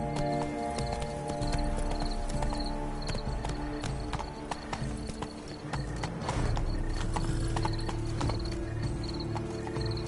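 A horse gallops under its rider in The Witcher 3, its hooves clopping in a fast, steady rhythm throughout, close and clear over a faint outdoor ambience, with no speech.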